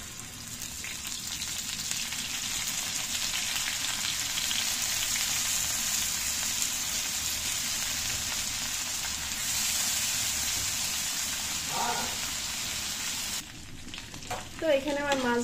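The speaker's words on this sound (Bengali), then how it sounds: "মাছগুলো ভেজে নিব।" Fish fry in oil in a pan with a steady, close, bright sizzle that holds throughout, with a few faint clinks and a brief voice-like sound near the end.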